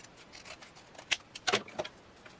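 Scissors trimming handmade paper for a coffee sleeve journal, with several quiet, close snips and light paper rustles in an otherwise soft, still room.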